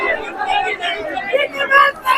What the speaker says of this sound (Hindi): अब देख सकते हैं कितना ज्यादा भीड़ है।